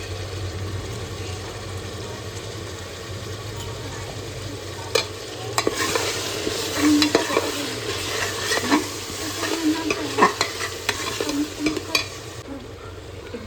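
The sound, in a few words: green ginger-garlic-coriander paste stir-fried in oil for pulao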